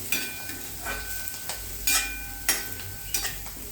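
Goda masala and salt being sautéed in a pan for a chavali (black-eyed pea) usal, with soft sizzling and a few scraping stirs of a spoon at a steady pace, close and fairly quiet, no talking.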